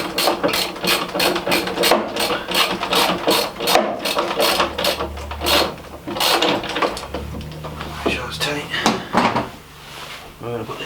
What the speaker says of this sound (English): Your 10mm socket and ratchet.